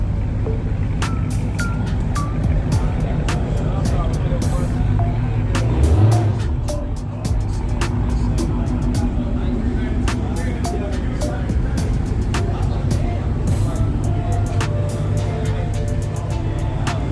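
Ford Mustang cars drive nearby with a continuous low engine rumble and one louder swell as a car moves past. Scattered sharp clicks and muffled background voices run throughout.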